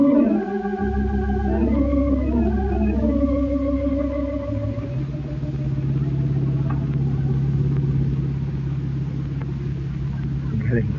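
A blue 1942 Oldsmobile convertible driving as a radio drama effect: a steady low engine rumble that takes over after a swelling, wavering musical passage at the start, continuing evenly to the end.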